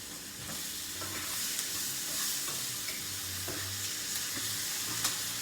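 Diced tomato goes into a pan of frying garlic and onion, producing a steady, close sizzle broken by soft stirring scrapes, with no talking.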